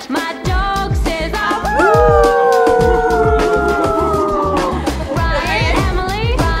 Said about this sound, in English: My dog says whoop whoop to you